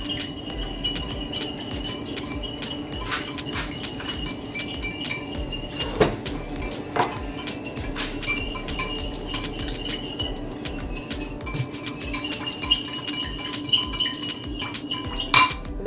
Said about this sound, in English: And now I'm gonna whisk this together.